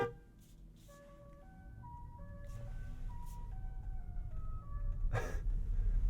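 A 2022 Tesla Model Y Long Range horn plays a novelty Easter-egg sound: a short melody of stepped electronic tones, faint over road and cabin rumble, with a few brief noise bursts.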